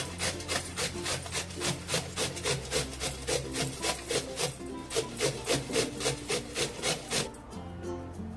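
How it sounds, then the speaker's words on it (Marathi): Raw green mango rasps against a hand grater in about twenty quick, regular strokes, close and steady, with no talking. "आणि आता आपण कैरी खिसून घेऊया"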